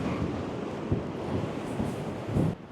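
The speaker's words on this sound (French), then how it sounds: "J'arrive même pas à tenir avec le vent qu'il y a." Strong wind buffeting the microphone over a steady roar of ocean waves on the shore, continuous and loud.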